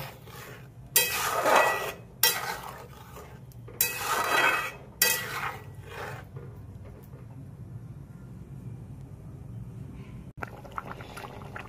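Fried chicken pieces being stirred into a simmering butter garlic chicken gravy in a pan: several scraping, clattering bursts of spoon against pan over the first few seconds, then a quieter low bubbling.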